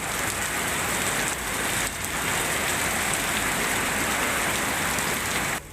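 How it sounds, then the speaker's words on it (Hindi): Heavy monsoon rain pours over flooded Mumbai streets, a dense, loud, unbroken hiss of downpour on surfaces lasting throughout, with no speech. "भारी बारिश की वजह से मुंबई समेत महाराष्ट्र के कई जिलों में लोगों की परेशानी बढ़ती जा रही है।"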